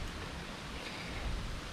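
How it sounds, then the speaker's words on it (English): Steady rain falling outdoors in Cancun in summer, a dense broadband hiss of drops on surfaces, close and continuous with no talking. "We're just going to sit here and wait for the rain to go"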